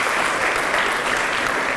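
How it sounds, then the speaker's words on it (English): Audience at a literary awards ceremony breaks into steady, dense applause, a full room clapping loudly and continuously for a couple of seconds. "Give yourselves a big round of applause."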